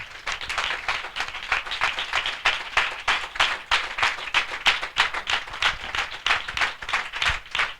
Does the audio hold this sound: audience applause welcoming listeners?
yes